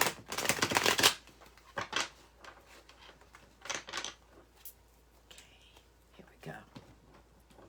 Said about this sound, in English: So, Jackie, let me get this shuffled.